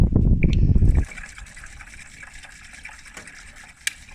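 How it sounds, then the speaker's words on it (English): Coolant pours through a funnel into a Ford Fiesta ST radiator in a steady gush for about a second, then quiets to a thin trickle and dribble, close by. "we're going to pour it all in nice and slow"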